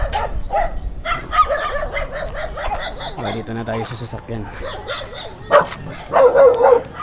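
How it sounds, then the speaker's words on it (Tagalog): A dog barks a few times in the background while people talk over it, with a vehicle-like hum underneath. "Ingay pa yung aso."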